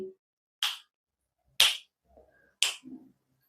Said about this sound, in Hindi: चारों दिशाओं में एक बार चुटकी लगा लीजिए।